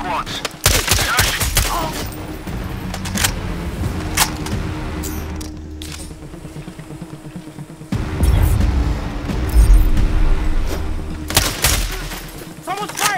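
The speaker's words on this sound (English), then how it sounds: "Someone's firing. It's this. Take cover." Gunfire in Sniper Ghost Warrior Contracts 2 comes as loud clusters of rapid shots near the start and again near the end, with heavy rumbling game ambience and faint voices between them.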